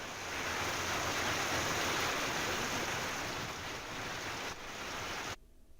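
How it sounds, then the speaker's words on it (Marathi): Heavy downpour in Chandrapur, a dense, loud, continuous roar of rain that cuts off abruptly near the end, with no voices. "दुसरीकडे चंद्रपुरात मुसळधार पाऊस झालाय."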